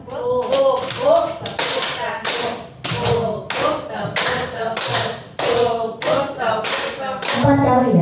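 Classroom group clapping hands during a positive-culture activity, a series of sharp claps and thumps in short bursts, loud and close, with voices talking and calling out between and over the claps.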